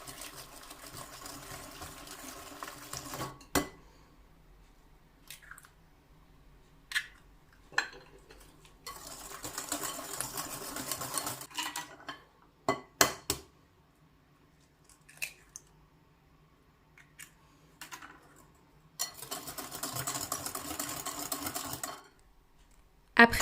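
Eggs being stirred into a lemon cake batter in a bowl, with bursts of wet whisking and utensil scraping separated by quiet pauses and a few sharp knocks against the bowl.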